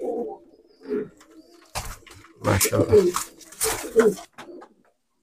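Nildumma pigeons coo in a few soft, throaty bursts close by, with someone speaking briefly between the calls.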